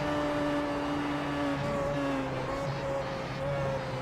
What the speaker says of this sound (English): Just listen to the engine notes here.